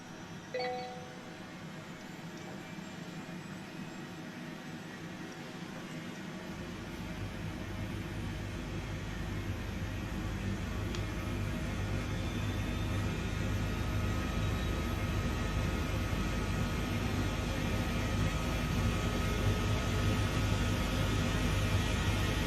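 Engine number 1 of an Airbus rescue helicopter spools up from idle, a rising turbine whine and broadband roar that swells after a few seconds and holds steady, close and continuous.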